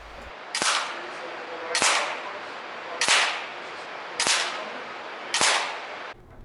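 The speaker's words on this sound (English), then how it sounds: "This is Shooter 3 firing 10 rounds at the Ace of Hearts." An FX Impact air rifle fires five sharp, evenly spaced shots about a second apart at a playing-card target, each a crisp crack with a short tail, close and loud with no talk.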